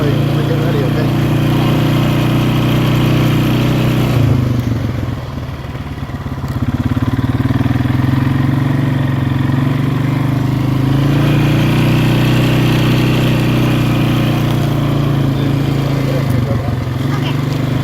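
Polaris 4x4 utility vehicle driven around a farm, its engine running in a steady close hum with a short dip in the middle and a change of throttle near the end; voices talk over it.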